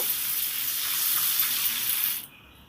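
Butter melts and sizzles in a kadai, giving a bright, even hiss close by that stops abruptly just before the end.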